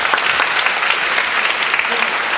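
Audience applause after a lecture at a lifelong learning forum in Ansan, a dense, steady clapping from a sizeable crowd filling the whole stretch at even strength, with a faint voice beneath.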